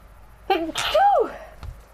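A single loud, close sneeze in The Last of Us Part II, a sharp inhaled build-up followed by an explosive burst, then a brief faint noise and quiet.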